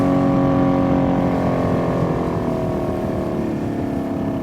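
A Yamaha 90 HP outboard motor runs on a boat out on the water, running rough in a suspected limp mode, a loud close engine drone with harmonic whine that slowly drops in pitch and eases off, no talk.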